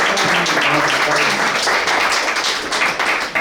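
Church congregation clapping for the Lord after a prayer, a loud, dense and steady burst of hands that runs through the whole stretch, with a voice faintly present beneath.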